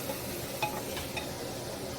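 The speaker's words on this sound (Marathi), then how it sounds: "तर मसाले पण शिजवून घेऊया पूर्णपणे." Spice masala with onion cooking in a pan for mutton, a soft low sizzle with a couple of light stirring scrapes, quiet and close.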